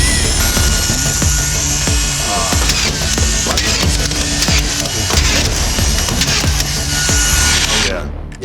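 A FLEX 24-volt cordless power tool running loud and continuously at close range for several seconds, a dense grinding whir with rhythmic pulses, cutting off abruptly at the end.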